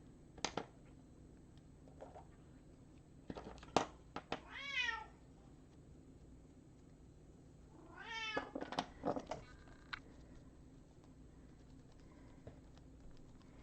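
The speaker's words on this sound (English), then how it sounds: "Anyone else have a needy cat?" A needy cat meows several times indoors, a few drawn-out plaintive calls scattered among faint clicks and taps, moderately close and otherwise quiet.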